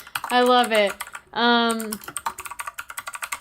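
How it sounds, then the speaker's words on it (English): Typing on a computer keyboard: a rapid run of close, crisp key clicks following two short vocal sounds at the start. "Is that what you're typing in? You're typing."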